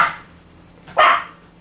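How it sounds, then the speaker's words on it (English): Dogs bark in two short bursts, one at the very start and a louder, nearer bark about a second later, with quiet between. "ignoring the dogs barking"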